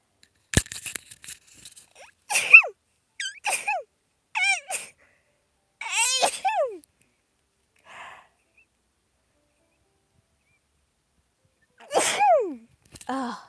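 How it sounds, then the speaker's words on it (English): Several sharp, high sneezes in separate bursts with quiet gaps between them, close to the microphone, with no talking. "Oh my gosh, I have to sneeze."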